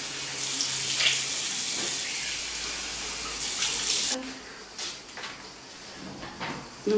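Water gushes steadily from a bathroom tap while someone rinses their face, a bright continuous hiss that cuts off abruptly, followed by a few soft splashes and drips.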